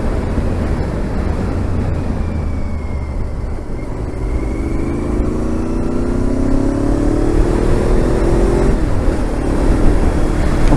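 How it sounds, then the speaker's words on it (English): A motorcycle fitted with race exhaust pipes runs loudly and steadily, its engine note climbing in pitch through a long rev before settling, close by and with no voices. "So yeah, race pipes, we kind of like them."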